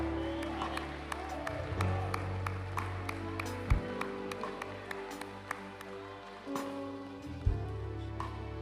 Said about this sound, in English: Give him a clap offering.